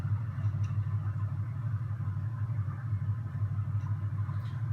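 A pickup truck engine in the Spin Tires off-road driving game, either a Chevy Colorado or a Ford Ranger, drones low and steady at a constant pitch throughout, with no speech.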